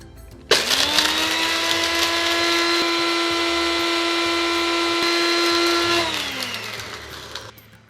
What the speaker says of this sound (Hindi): इसे हम डालेंगे एक मिक्सर ग्राइंडर में एंड फिर ग्राइंड ग्राइंड ग्राइंड